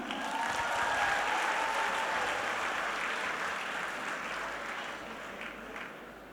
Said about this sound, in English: please help me in giving a big round of applause for Ambassador Curtis Chin.